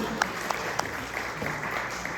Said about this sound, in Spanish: Un aplauso para él, dándole la bienvenida.